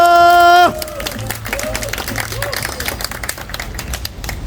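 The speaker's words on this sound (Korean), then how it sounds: "큰 박수 부탁드리겠습니다" A crowd at a Korean labor union solidarity rally breaks into dense, rapid clapping and cheering right after a short amplified tone, and the applause carries on steadily to the end.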